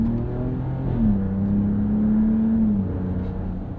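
Ram 1500 RHO pickup with its twin-turbo inline-6 Hurricane engine and 8-speed automatic accelerating on the road, a steady loud drone rising in pitch with a brief shift dip, heard from inside the cab.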